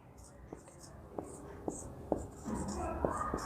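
A pen scratches out a formula on paper in short, faint strokes, with soft taps and rustles over a quiet background.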